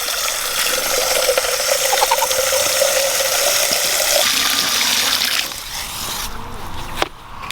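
Steady rush of running water pouring into a container, continuous for several seconds before easing off, with a brief clunk near the end.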